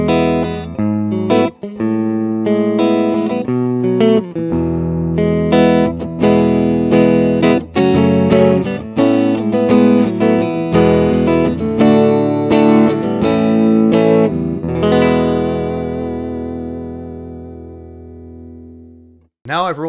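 Electric guitar in a clean tone through an Orange CR60 amplifier with bass and treble at noon and a touch of reverb, playing a melodic run of single notes and chords that ends on a ringing, slowly fading sustained note.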